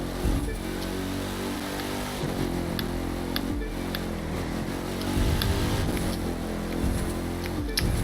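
A car engine in the racing game The Crew 2 drones and revs continuously at close range, with shifting pitch as it accelerates and occasional clicks over a steady mechanical hum, without speech.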